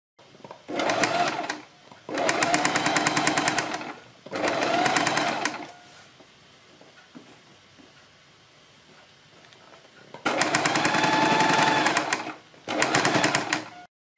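A sewing machine stitching a fabric strip onto a kurti neckline runs in four loud, close bursts of rapid rhythmic stitching, with a quiet pause in between.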